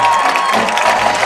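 A high school football home crowd cheers and claps in the stands, a loud, dense wash of voices and applause filling the whole moment.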